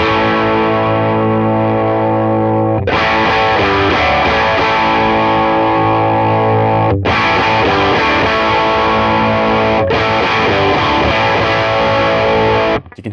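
Electric guitar through a Tone King Imperial MKII amp with the mid boost pushed, loud driven chords ringing out in three long sustained strums, each held for several seconds before the next attack, played alone with no talk.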